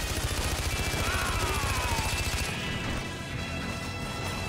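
Rapid, steady bursts of gunfire from a Far Cry 4 firefight, a dense rattling string of shots for the first half that then thins into rumbling action noise, with no talk over it.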